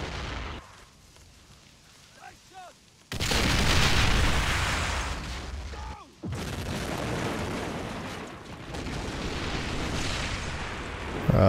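Mortar explosions in World at War, heard as a dull broadband blast followed by a long roaring rumble, then a second large blast that rolls on loudly to the end.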